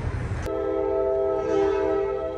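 A train sounds its horn in mountain country around Jim Thorpe, Pennsylvania: after a brief rumble, a loud, sustained multi-tone blast holds steady and close for about two seconds, with no voices.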